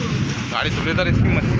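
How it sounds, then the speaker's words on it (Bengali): A thunderstorm sounds as a steady, loud roar of wind and rain, with low rumbling underneath, while a person talks over it. "ভালোই বিদ্যুৎ চমকাচ্ছে বন্ধুরা, তোমরা শুনতে পাচ্ছ। আর হাওয়াও সেরকম হচ্ছে,"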